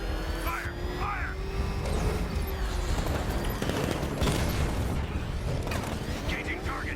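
A volley of soldiers' gunfire in Batman: Arkham Knight: steady, loud bursts of shots over mechanical whirring, with voices calling out among the noise.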